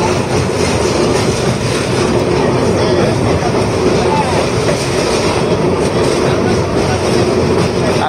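Sealdah–Puri Duronto Express running on rails near the Rupnarayan river at Kolaghat, a loud, steady rumble and rattle of wheels and carriages heard from inside the train, continuous throughout.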